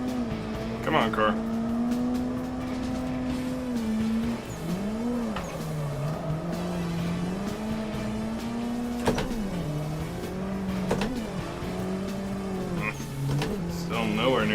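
A race car in the sim game Assetto Corsa revs and wails through shifting engine pitch, rising and dropping repeatedly with occasional squeals, as a person talks over it.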